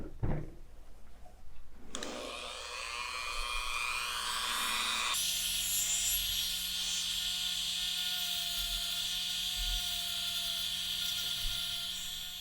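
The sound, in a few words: Dremel rotary tool grinding an action figure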